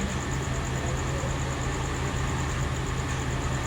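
A factory-standard Hino 500 truck engine as the throttle is eased off from medium, holding a steady, moderately loud low drone with a faint gravelly texture throughout and no voices.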